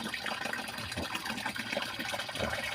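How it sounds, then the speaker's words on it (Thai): Groundwater pours into a nearly full tank on a sugarcane farm, a dense, steady rushing and gurgling of flowing water heard close and unbroken throughout, with no talking. "ตอนนี้น้ำก็ใกล้เต็มทังแล้ว น้ำไหลดีดี"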